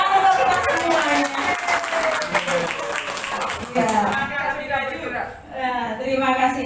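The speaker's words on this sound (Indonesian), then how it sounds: "tepuk tangan untuk kita semuanya" An audience at a school training session breaks into loud, dense clapping that fades out, while a presenter keeps talking over and after it.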